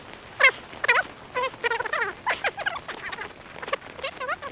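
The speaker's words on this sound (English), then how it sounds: "I'll speed it up, and it will sound like the chipmunks." A human voice sped up to a high, squeaky chipmunk-like pitch, chattering in quick bursts of nonsense syllables across the whole stretch, close and fairly loud.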